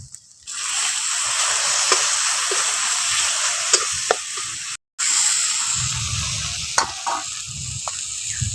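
Spices fry with salt in a pan for a banana flower and prawn kofta curry, a loud close sizzle broken by scraping stirs and a brief cut, with duller scraping toward the end.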